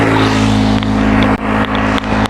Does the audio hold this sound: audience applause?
no